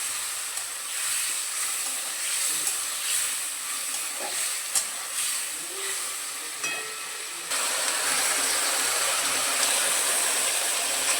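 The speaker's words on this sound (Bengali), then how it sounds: "আলু আর টমেটোটা ভাজা হয়ে গেলে এর মধ্যে দিয়ে দেবো আদা আর কাঁচা লঙ্কার পেস্টটা" Ginger and green chili paste frying in oil with potato and tomato, a steady broadband hiss and sizzle running throughout, growing louder and denser toward the end, with faint scattered clicks and no talking.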